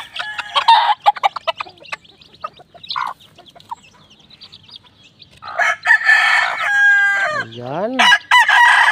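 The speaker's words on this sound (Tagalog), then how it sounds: "At papatukain na naman ang ating mga alagang sisiw." Pet chicks and hens at a small backyard coop cluck, peep and squawk in scattered close bursts while being fed, ending with a loud crowing rooster; no one speaks over them.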